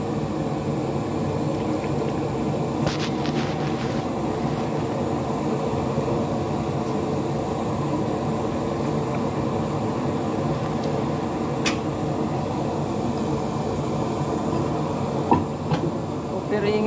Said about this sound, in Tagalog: Ingay ang exhaust fan, ano?